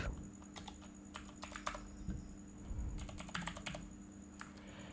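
Fingers typing a password on a computer keyboard, several quick bursts of crisp key clicks separated by short pauses, close and clear against a steady low hum.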